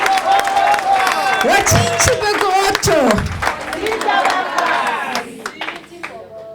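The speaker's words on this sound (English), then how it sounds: "Let's give a wonderful round of applause." An audience at a community tribute event applauds, steady clapping and some cheering filling the scene while a voice speaks over it.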